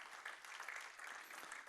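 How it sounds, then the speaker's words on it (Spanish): A church congregation claps together in a short, steady burst of applause, fairly faint and continuous. "Un aplauso para todos ustedes."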